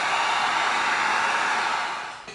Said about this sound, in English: now we're gonna heat seal the whole thing just to get a nice extra little layer of sealing on there